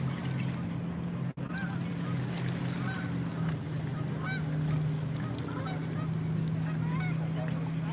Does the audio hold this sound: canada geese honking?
yes